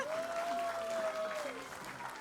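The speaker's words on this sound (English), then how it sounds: "Can we please clap for the girls again?" Applause from an audience at a trailer launch event, clapping for a group of girls, a brief burst of moderate clapping with a whistle-like tone sliding over it before it fades.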